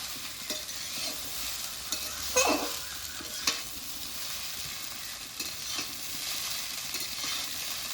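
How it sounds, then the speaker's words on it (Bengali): Chowmein with Maggi masala fries in a pan, a soft steady sizzle broken by a few sharp spatula scrapes and clanks as it is stirred. No one speaks. "এরপরে নেড়ে চেড়ে মিশিয়ে নেব।"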